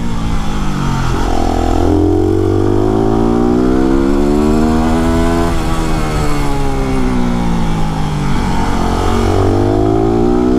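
WR motorcycle ridden on a rough, tight road, its engine droning loud and close throughout, pitch rising and falling with repeated throttle changes and shifts, no voices.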